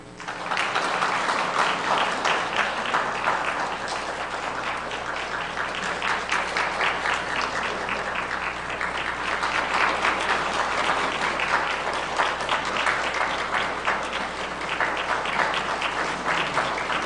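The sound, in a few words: church congregation applauding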